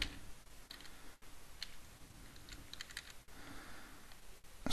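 Soft, quick keystrokes tap out a captcha code on a computer keyboard in faint, irregular bursts with small pauses between them, and no voice is heard.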